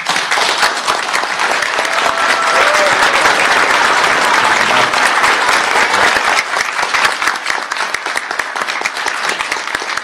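A large crowd at a presidential campaign rally applauds and cheers, loud dense clapping that continues steadily throughout.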